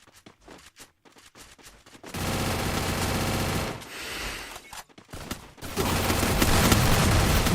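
Gunfire in an esports video game match: scattered sharp shots at first, then long, dense bursts of rapid automatic fire, close and loud, with brief gaps between volleys.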